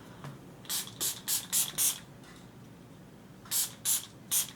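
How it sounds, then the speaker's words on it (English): Short hissing spray bursts, five in a quick rhythmic row, then a pause and three more, close and fairly loud over quiet background, from a Catrice Dewy Glow Prime and Prime setting spray on a face. "I'm going to set my face with the Catrice Dewy Glow Prime and Prime Setting Spray"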